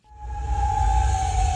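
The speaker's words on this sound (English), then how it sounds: "Sirens ring out overnight in Kuwait City." An air-raid siren sounds overnight over Kuwait City during missile and drone attacks: one loud, steady, sustained tone held the whole time above a low rumbling background.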